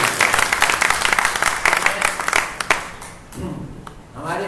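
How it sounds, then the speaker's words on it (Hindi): Audience applause at a devotional gathering honoring a guru, dense clapping for about three seconds that fades into a murmur and faint voices. "जोर से तालियां बजाओ"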